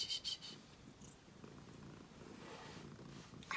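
A domestic cat purrs close by in a quiet room, a soft, steady low rumble continuing for a few seconds with some faint rustling, and no talking.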